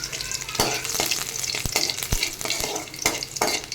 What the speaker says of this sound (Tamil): அப்புறம் முதல்ல அந்த பூண்டு ஃப்ரை ஆகட்டும்